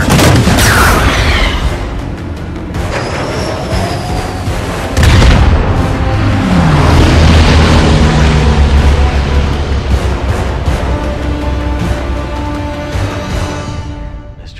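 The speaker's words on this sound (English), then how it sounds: "Enemy aircraft, we're taking fire." Heavy explosions and gunfire rumble through an airplane attack scene in the 2013 action film Olympus Has Fallen, with loud, dense booms sustained throughout and a few fainter voices beneath.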